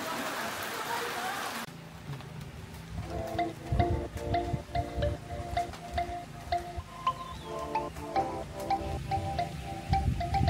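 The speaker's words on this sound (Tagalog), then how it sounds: "Papatila muna kami ng ulan." Rain falls at a campsite by a limestone cave, a dense, close patter on surfaces with wind buffeting the microphone, while a tonal hum drifts beneath the downpour.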